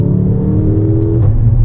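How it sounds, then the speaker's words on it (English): Loud, close engine note from a Mercedes GLA 45 AMG in Sport Plus manual mode, a steady droning rev that shifts tone near the end with a faint crackle, heard alone without speech. "the crackles are really beautiful when the gear is changing itself"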